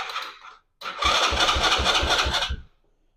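An ATV engine cranks without the choke in a rapid, rhythmic chugging burst of about a second and a half after a short pause, loud and close, then stops without catching.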